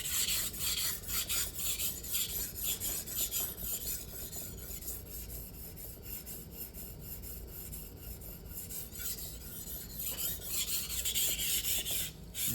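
Steady rasping strokes of a knife blade drawn across a whetstone, worked at the heel of the blade, continuous and close with a slight rhythmic pulse and no voices.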